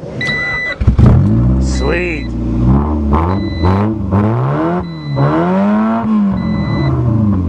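A car's cold engine cranks and catches, then revs repeatedly through a loud, raspy fart can exhaust, the pitch rising and falling with each blip while someone talks briefly between revs.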